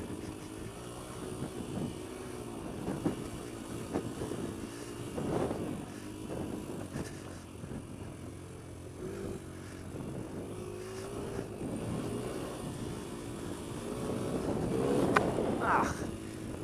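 A Kawasaki KLX140L dirt bike engine hums unevenly while riding downhill, with wavering low revs, rising and falling, under steady wind buffeting on the microphone and a brief rider voice near the end.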